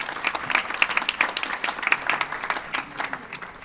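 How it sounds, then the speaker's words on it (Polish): Dense applause from a crowd at a quiz event thanks the jury and organizers, a steady wash of many hands clapping for a few seconds with no talking over it. "Wielkie brawa dla jury,"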